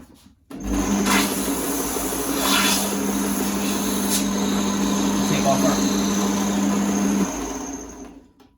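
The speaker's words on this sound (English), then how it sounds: "And same thing again, onto the sander." A power sander running steadily on a wooden robot part, a continuous whirring hum that starts abruptly, holds for about seven seconds with slight changes as the piece is pressed, then winds down.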